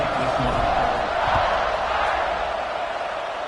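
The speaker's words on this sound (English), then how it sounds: "this crowd is buzzing after that last score" Football stadium crowd at a Notre Dame versus Penn State game, buzzing after a score as the kickoff approaches: a steady, dense roar of many voices filling the whole stretch at even loudness, with no clear talk standing out.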